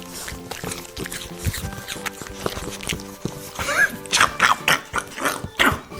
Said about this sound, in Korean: 사과 먹는 소리